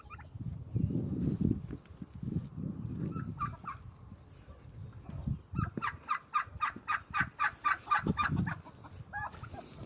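Turkeys gobble in rapid, rattling bursts as one chases a smaller turkey, with clucks and scuffling earlier, fairly close in an outdoor poultry yard, no talking.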